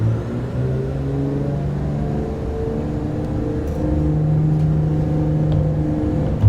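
Twin piston engines of a 1980s Beechcraft Duke power up for takeoff, a steady loud droning rumble that swells slightly partway through, with no talk over it.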